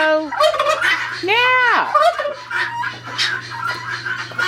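Turkey hens on a farm, near a goat stall, gobble loudly and close by in repeated bursts with rising and falling warbles, over a steady low hum, with one short spoken word.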